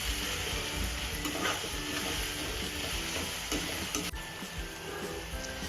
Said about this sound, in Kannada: ಸೊ ಇದಿಷ್ಟು ಈ ಥರ ಫ್ರೈ ಆಗಬೇಕು.